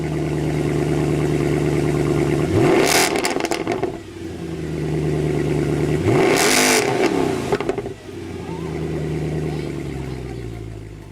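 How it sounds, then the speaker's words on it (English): Mercedes C63 AMG revving in two sharp bursts, its exhaust growl rising and falling at about 3 and 7 seconds over a steady idle rumble, loud and close. "it might be the unmistakable growl of an exhaust"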